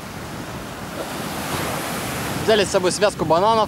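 Waves and surf break on the southern shore of Samui Island, Thailand, as a steady broad roar with wind buffeting the microphone, and a person speaks over it near the end.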